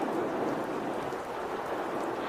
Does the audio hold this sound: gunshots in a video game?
no